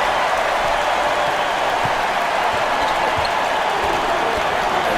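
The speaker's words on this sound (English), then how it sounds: "crowd is definitely making some noise now" A basketball crowd roars loudly in an arena, a continuous dense wash of cheering and shouting with occasional thumps underneath, steady throughout.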